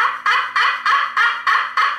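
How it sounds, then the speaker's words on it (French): Soft purrs worked on a slate turkey call for a quiet morning start, about seven short, evenly spaced rolling bursts at close range with no talking. "J'y vais avec des sons très"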